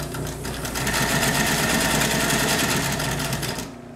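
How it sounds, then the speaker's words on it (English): A clutch-motor sewing machine runs through a stitch with a loud, steady whirring rattle that holds for about three and a half seconds, then cuts off. "let me just sew a stitch so you can hear what it sounds like"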